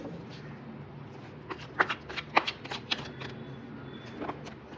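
Tarot cards being shuffled and drawn by hand, a cluster of quick riffling flicks and papery slaps building in the middle, close up over a quiet background with no speech.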